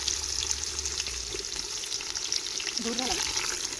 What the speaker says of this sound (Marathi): हे जिरे मोहरी कडकडली